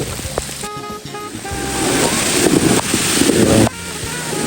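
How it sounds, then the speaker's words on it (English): A loud, continuous rush of turbulent flood water during rain, with heavy wind buffeting, low rumbling and scattered knocks of stones tumbling in the flow. "Never seen this kind of water overflowing with stones coming down."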